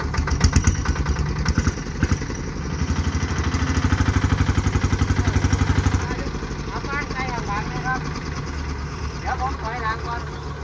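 A Thai rural farm vehicle, an i-taen, runs hard with a loud chugging single-cylinder rattle that rises steadily, then settles to a rougher drone while people shout and talk over it.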